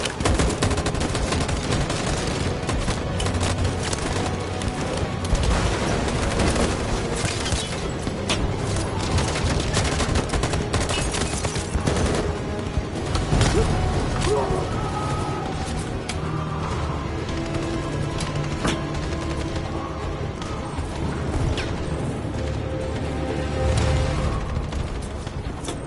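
Gunfire in Detroit: Become Human, sustained rapid automatic bursts and scattered shots, loud and dense throughout, with heavier cracks and mechanical clatter layered through a chaotic firefight.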